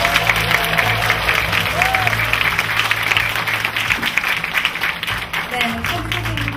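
A lecture audience at Jeonggwanheon applauds at the end of a talk, with dense, sustained clapping throughout and a voice speaking over it.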